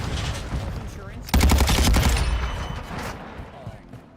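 Rapid automatic gunfire in a video game, a loud rattling burst of closely spaced shots lasting about a second, then fading into softer scattered pops and ambient noise.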